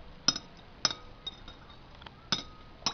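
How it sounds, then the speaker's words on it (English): A spoon stirring an oil-drop mixture in a glass gives a few quiet, separate clinks and taps, spaced irregularly over a few seconds. "Give it a good old stir and see what happens."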